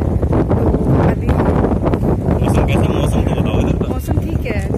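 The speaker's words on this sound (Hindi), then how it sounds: "थोड़ा हवा चल रही है" Wind blowing hard across an outdoor microphone on a trip in Gujarat, a loud, continuous rough buffeting rumble with gusty surges throughout.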